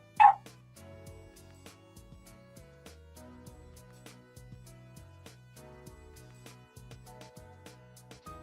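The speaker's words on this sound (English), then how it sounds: "Somebody come get these dogs, man." Dogs bark and yip intermittently over continuous background music, with a sharp loud bark at the start followed by fainter, scattered barks.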